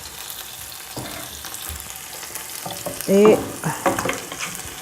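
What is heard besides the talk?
stirring oil in a pan with a wooden spoon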